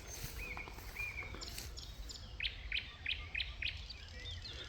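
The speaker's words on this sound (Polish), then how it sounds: "I pierwszy słowik szary." A thrush nightingale sings at a moderate distance, first with a few drawn-out whistled notes, then a run of five or six evenly spaced sharp repeated chirps, over a steady low background hum.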